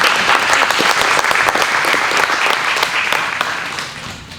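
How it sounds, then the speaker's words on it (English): A live audience at an improv comedy show gives loud, dense applause that fills the room and gradually tapers off toward the end. "well, round of applause."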